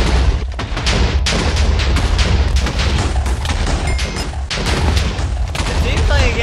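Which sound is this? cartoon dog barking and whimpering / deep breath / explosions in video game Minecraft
explosions in video game Minecraft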